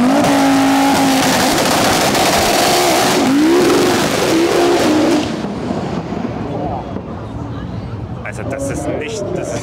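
A high-powered car with around 1800 hp revs loudly at the PS Days car event, its engine roaring with rising and falling pitch for several seconds before easing to a lower rumble, with crowd noise around.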